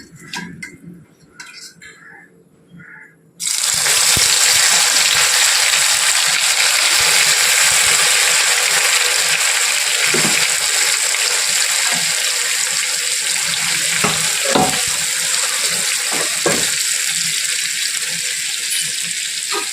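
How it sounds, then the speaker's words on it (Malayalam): Soya chunks dropped into hot oil burst into a loud, continuous frying sizzle after a quiet few seconds of faint handling sounds, with crackles and pops spread through the steady hiss. "ഇനി നമുക്കത് ചൂടായ എണ്ണയിലേക്ക് ഇട്ട് കൊടുക്കാം"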